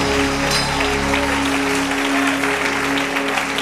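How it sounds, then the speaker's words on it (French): A church congregation at a Jesus festival applauding and cheering loudly, dense continuous clapping with voices mixed in, close and sustained throughout. "Acclame le Seigneur pour ta propre vie. Acclame très très fort."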